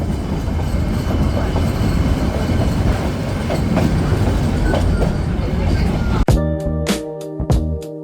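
A toy train on the Ooty mountain railway rumbles along the rails with steady rolling noise, then shifts to sharp rhythmic clacks and tonal horn-like bands near the end.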